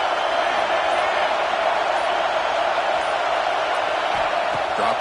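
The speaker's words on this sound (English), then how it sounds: "Listen to this crowd noise. This stadium is vibrating." Stadium crowd at a football game roars as a steady, loud, dense wash of noise that holds without break, no single voice standing out.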